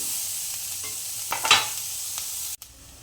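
Vegetables for sorghum noodles stir-fried in a hot pan, a steady sizzle with a few scraping stirs, a sharp cut near the end, no talking.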